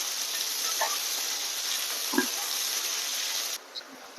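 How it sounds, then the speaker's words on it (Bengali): Chopped onions fry in oil in a pan for mutton curry, giving a steady close hiss with a few faint clinks, then the sizzle drops away near the end. "কুচনো পেঁয়াজটা দিয়ে একটু ভেজে নেব।"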